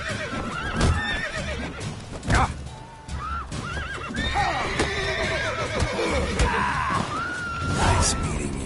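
Horses in The Witcher 3: Wild Hunt whinny loudly several times over clip-clopping hooves, with scuffles and other game sounds mixed in, fairly close and busy.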